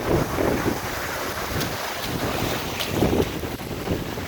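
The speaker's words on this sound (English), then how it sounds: "this little lazy river splash area for children serviced by a waterfall" Steady rushing splash of a waterfall falling into a shallow children's splash pool, continuous and fairly loud with wind-like hiss, no voices.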